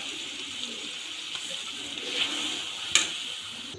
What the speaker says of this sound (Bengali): আর এই যে সরিষা বাটার যে বাটি ছিল সেটা দিয়ে এক বাটি জল দিচ্ছি